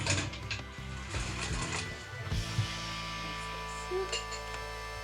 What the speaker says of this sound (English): we're going to put in some ice